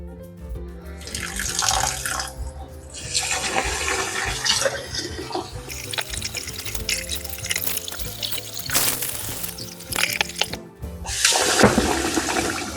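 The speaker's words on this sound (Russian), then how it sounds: "сперва мы промоем рис" Basmati rice being rinsed by hand in water for beef pilaf, with steady running and sloshing water from a tap that surges in several loud bursts, close and continuous with no talk.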